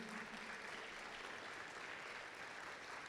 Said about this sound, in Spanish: ¿Cuántos quieren darle un aplauso a Jesús?